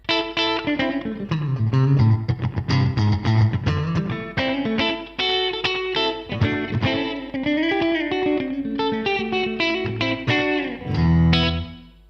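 Distorted electric guitar through a Neural DSP NanoCortex with a UA-inspired compressor plays a continuous lead and chord phrase with compressed, even sustain and a touch of ambience.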